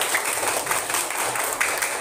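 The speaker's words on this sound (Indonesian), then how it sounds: "tepuk tangan buat semuanya" A fifth-grade primary school class claps together in a classroom, a brief, fairly loud burst of busy hand claps without talk.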